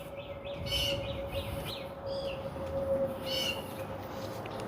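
Repeated high bird chirps come in short bursts over a steady hum and faint background noise, fairly distant, in spring near a magnolia tree.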